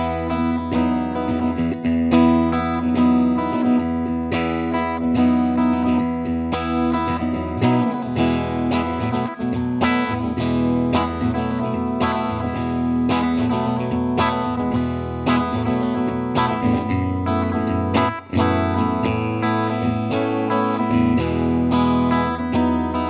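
Ibanez TSA5TVR Tube Screamer tube amplifier with its reverb set to about halfway, played as sustained, ringing guitar chords and notes with a reverb tail, loud and steady throughout, with no talking.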